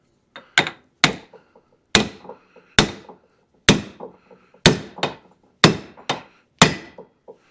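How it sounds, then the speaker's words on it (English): A metal punch struck repeatedly around the outer race of a bearing on a brush mower clutch, about a dozen sharp, close hammer-like taps in an uneven rhythm, each with a brief ringing decay, with no talking. "You can actually just use a punch and go around the outside."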